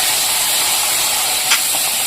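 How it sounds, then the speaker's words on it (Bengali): Katla fish sizzling loudly as it drops into hot oil in a kadai, a steady bright hiss filling the whole span with a brief crackling flare partway through and no talk. "তেলটা গরম হয়ে গেছে, মাছটা ছাড়ছি।"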